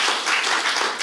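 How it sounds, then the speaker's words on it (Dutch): An audience applauds in a brief, dense burst of clapping at the close of a talk on social media addiction, heard alone and fairly close. "Geef een warm applaus"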